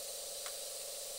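An airbrush sprays paint onto a mirror with a steady, faint hiss of air that continues without a break.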